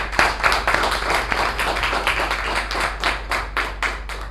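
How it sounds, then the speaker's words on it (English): Audience applause at a Toastmasters club meeting, a steady patter of many hands clapping close by for several seconds with individual claps standing out, no voices over it. "Can we have a thundering round of applause for Toastmaster Shiva?"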